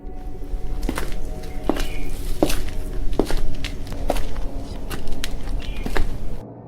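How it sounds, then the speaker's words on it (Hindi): Slow, evenly spaced footsteps descend a staircase from an upper floor in a horror story scene, about nine distinct thuds over a steady low background drone. "किसी के चलने की आवाजें, ऊपर की मंजिल से धीरे धीरे सीढ़ियां उतरती आहट"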